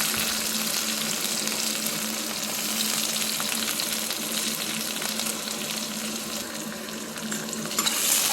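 Onions sizzle in hot oil with fenugreek for a Chettinad fish curry, a dense continuous fry close up with occasional stirring and no voices.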